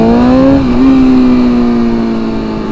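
A motorcycle engine runs on a ride in freezing 30-degree weather, close and very loud, holding a steady droning tone that dips briefly in pitch and then settles.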